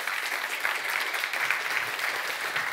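Audience applause at an eloquence tournament final in Namur as a student speaker is welcomed, a dense, steady wash of clapping from a sizeable crowd, continuous and even throughout.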